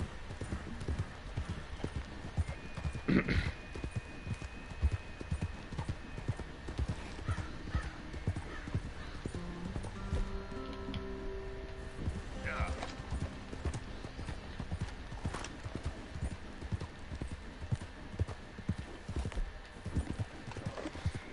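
Horse galloping in the video game Red Dead Redemption 2, a steady rapid drum of hoofbeats with an occasional whinny and faint mechanical clicks, loud and continuous throughout with no talk.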